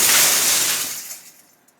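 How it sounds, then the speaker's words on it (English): Old window panes and an office door's glass are smashed with a hatchet. One loud, close crash shatters bright and harsh, and the debris tinkles away into a fading trickle within about a second. "We even smashed the old Sound Ideas office door to get some even bigger glass smashing sounds."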